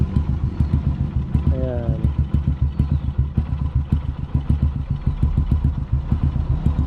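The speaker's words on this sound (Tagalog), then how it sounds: "Napainit ko na yung makina niya" A warmed-up motorcycle engine idles steadily up close, its rapid, even putter continuing throughout with a brief rising tone partway through.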